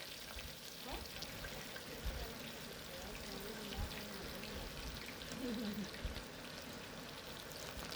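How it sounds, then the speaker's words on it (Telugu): Finely chopped onions go into hot oil for a Nellore-style fish curry, producing a low, continuous hiss and crackle with faint scattered pops, heard fairly quietly without speech. "ఇప్పుడు సన్నగా తరిగిన ఆనియన్స్ని వేసుకోవాలి"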